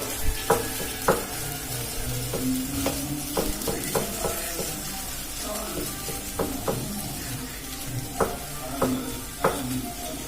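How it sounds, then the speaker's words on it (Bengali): Bengali snack filling with a little sugar and chopped coriander frying in a pan, a steady close sizzle broken by repeated scraping and stirring strokes, with no voices. "এটা খুব ভালো করে ভেজে নিয়ে এবার আমি নামিয়ে নেব"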